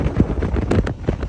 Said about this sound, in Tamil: அந்த இடத்துல வீசுகிற அந்த காற்று, சரியான காற்று